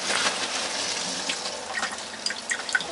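Steady rush of cold water pouring from a tap while winterizing a motorhome, pink with antifreeze, a continuous splashing flow with faint trickles on top.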